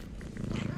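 A cat's eerie purring from the JoJo's Bizarre Adventure anime, a steady low rumbling texture lasting under a second, moderately loud and alone.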